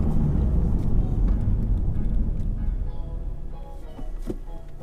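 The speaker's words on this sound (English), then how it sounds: "First gear. There's a grind again. Still grinds." Honda Civic Type R with a faulty transmission grinding as it shifts into first gear, a steady low engine and road rumble running throughout with a rougher mechanical texture near the end.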